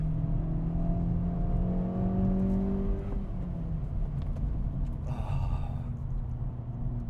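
A 2025 Acura Integra Type S engine revs during rev-matched downshifts, its tone sweeping smoothly up and down for a few seconds before settling into a steady cabin drone with a brief whooshing rush.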